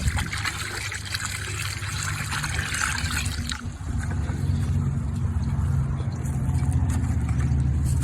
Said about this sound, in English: Pour it in my warming pan.